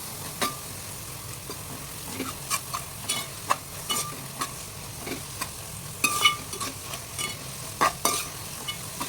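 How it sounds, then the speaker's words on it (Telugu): A spoon stirs turmeric into a black-eyed pea curry in a pan, making irregular close scrapes and clinks over a soft, low sizzle, with no talking. "ఇప్పుడు పసుపు వేసాక ఇలా కలుపుకోవాలి"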